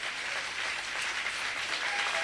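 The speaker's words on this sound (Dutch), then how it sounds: "Krijgt ook applaus van het publiek." A football stadium crowd at a KAA Gent versus Steaua Bucharest match applauds a player being substituted off: a steady, distant wash of broadband clapping and crowd noise, with no distinct individual claps.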